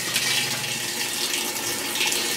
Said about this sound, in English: so let's fill it with some water